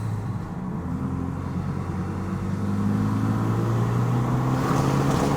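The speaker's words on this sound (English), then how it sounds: "listen to that exhaust note." Exhaust note of a Renault Megane RS RB8 project car, a loud steady low rumble with clear engine harmonics that rises slightly in pitch and volume midway, close and without talk.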